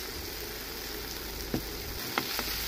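Boiled potatoes tipped into a pan of cooked tomatoes, steady loud sizzling and frying throughout, with a few soft thuds and scrapes as the pieces land and are stirred.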